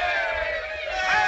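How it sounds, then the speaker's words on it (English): Cheering crowd in a 1948 classic comedy film scene, a sustained distant chorus of shouts and whoops held at a steady level, rising slightly toward the end. "And keep cheering."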